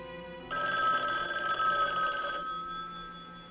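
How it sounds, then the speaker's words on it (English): A telephone bell rings in a classic Las Vegas detective drama, a single sustained burst of bright metallic trilling lasting about two seconds before cutting off, with a faint lingering tone after. "Dan, answer the phone. Answer the phone!"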